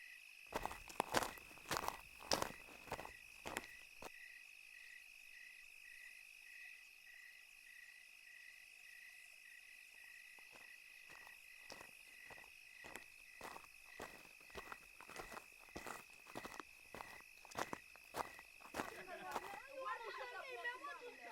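Soft footsteps crunch along at a steady pace, with crickets chirping continuously in the background and faint distant voices near the end.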